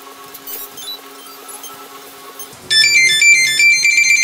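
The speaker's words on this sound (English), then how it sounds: "Yeah, that's Pixhawk sound." A Pixhawk Orange Cube flight controller on a drone plays its power-up tones. A short run of soft beeps is followed by a brighter, louder sequence of chiming melodic notes, close and alone.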